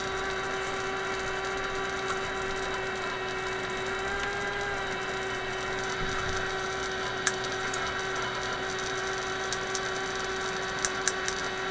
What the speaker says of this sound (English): Now my power supply may be very noisy.